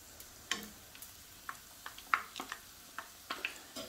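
Beignets fry gently in moderately hot oil, soft crackles and pops scattered irregularly over a quiet bubbling bed, close and faint.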